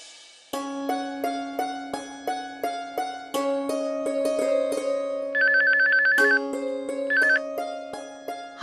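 A telephone rings in a Hindi TV serial, a melodic electronic ringtone repeating its tone pattern loudly and steadily for several seconds with no speech over it.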